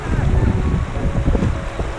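Strong wind at a beach roars steadily across the microphone, with waves and surf rumbling low beneath it and no clear talk.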